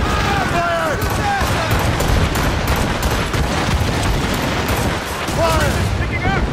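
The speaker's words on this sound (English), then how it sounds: "They are firing a volley!" Naval cannon volleys from ships in the Assassin's Creed Rogue video game, a dense barrage of booming shots under constant battle noise, with voices shouting over the fire.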